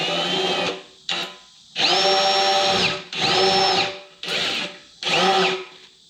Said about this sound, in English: you want to drill a little bit down